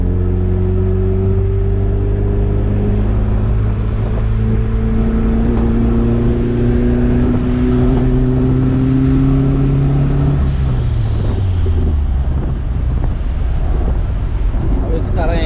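A Chevette 1.6 OHC turbo drives along with a loud, close engine drone that climbs steadily in pitch as it accelerates, then drops sharply on a gear change and keeps pulling, with road noise throughout.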